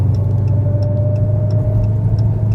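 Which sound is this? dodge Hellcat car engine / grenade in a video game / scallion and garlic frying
dodge Hellcat car engine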